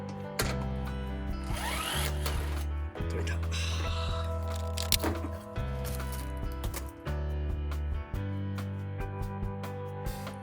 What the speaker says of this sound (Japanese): 格安の電動インパクトレンチでこの部分を取り外します